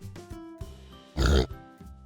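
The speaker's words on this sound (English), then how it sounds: "Pig" A pig gives a few soft, short grunts, then one loud, snorting oink, heard up close.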